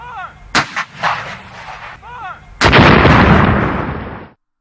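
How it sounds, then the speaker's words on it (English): Cannon salute fired at Fort Sumter: two sharp booming blasts early on, then a third heavy report whose rumbling roar sustains for nearly two seconds before cutting off, loud and close. "We ask that we be allowed to perform a gun salute to the Union flag before our retreat."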